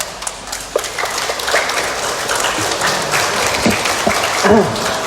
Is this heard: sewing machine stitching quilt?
no